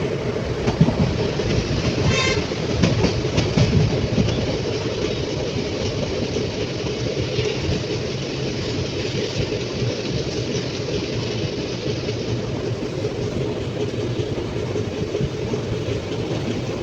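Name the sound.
train passing at Mysuru railway station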